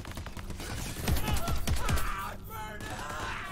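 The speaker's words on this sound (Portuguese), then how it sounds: "Um tiro," Gunfire in the video game Crackdown 3: a quick burst of about five sharp shots in rapid succession, set among other game sounds and a brief shout.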